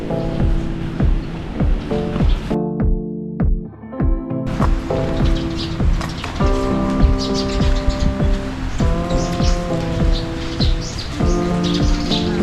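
Birds chirp and sing steadily in a quiet seaside spot, with bright repeated tweets and calls over a constant background wash, with a brief dip in the ambient noise partway through.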